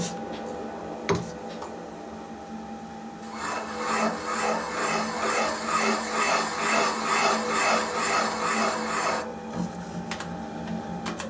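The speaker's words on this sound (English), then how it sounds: "You hear the uneven cutting going on" A rough, rasping grinding of a cutter unevenly cutting a valve seat on a 1983 Harley-Davidson FXRT 80ci Shovelhead engine runs for several seconds, with a faint mechanical hum before and after.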